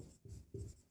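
Pen writing on paper while a Class 10 arithmetic progression problem is solved, two or three soft scratching strokes, faint and close, with no voice.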